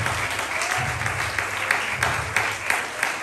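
A church congregation applauding a sermon, dense sustained clapping from many hands that fills the space steadily throughout, fairly loud and continuous with a faint voice underneath.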